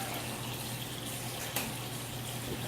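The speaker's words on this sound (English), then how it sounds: "Pop it apart, little tap, and just some steaming hot water" Steaming hot water runs steadily from a tap for cleaning a suppressor core, a constant close hiss of flowing water under a low hum, with one brief clunk partway through.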